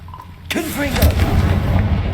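A Confringo fire spell in the Hogwarts Legacy video game bursts with a sharp blast and a rumbling, crackling tail inside the castle, loud and close.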